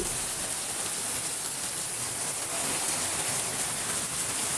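Steady afternoon rain hiss in Pabna, Bangladesh fills the scene, a dense, even wash of falling water with no voices, constant and close throughout.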